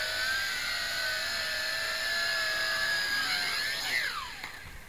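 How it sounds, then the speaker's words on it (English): A Tarantula X6 quadcopter drone hums with a steady high whine of spinning propellers as it flies close by, the pitch sliding downward near the end as it lands and the motors wind down. "That is a flight of my Tarantula with its new anti-vibration mount."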